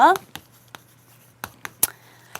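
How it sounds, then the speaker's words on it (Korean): A sentence is written out by hand during a grammar lesson, heard as scattered, short scratchy strokes over a steady low hum, with a brief voice fragment at the start. "제가 문장을 한번 써볼게요"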